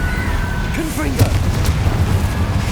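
A Confringo fire spell blasts in Hogwarts Legacy, a single booming burst in the middle of a dense game soundscape with a voice speaking over it.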